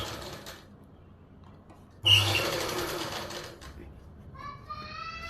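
A sewing machine stitches the lining of palazzo pants right along the edge beside the elastic. It runs in one short burst of about a second and a half, with quieter handling sounds before and after.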